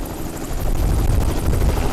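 A tour helicopter flies close by with a steady, loud rotor thrum and dense low chopping throughout two seconds, with no voices.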